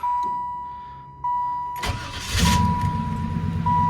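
A car with a coolant leak is started up close by. A repeating electronic chime sounds first, then the starter cranks briefly and the engine catches and settles into a steady idle.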